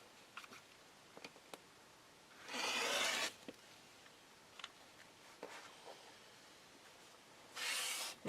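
Fabric cut into a 3 1/2 inch full-width strip for quilting, heard as two short, moderately loud bursts of cutting noise separated by quiet pauses, with a few small ticks and taps between.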